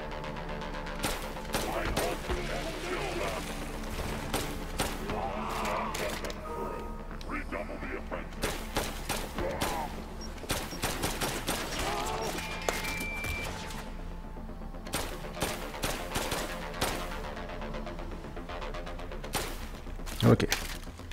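Rapid gunfire bursts from the VR shooter game Synapse, steady and loud throughout, mixed with game music and effects, while someone talks over the action.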